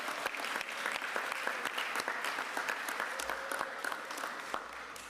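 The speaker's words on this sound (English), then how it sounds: "So let's give Ozzie a round of applause for saying it so well." At an outdoor rally for retirement security, a crowd breaks into steady applause, many hands clapping densely with a few sharp nearer claps, sustained at an even level for several seconds.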